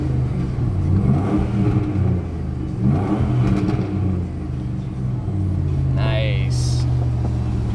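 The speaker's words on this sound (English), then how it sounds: "So it revs up good, idle smooth." A 2002 Dodge Dakota SLT pickup truck engine rumbles and revs up twice, then settles into a steady, smooth low idle, close by, with a brief higher whine near the end.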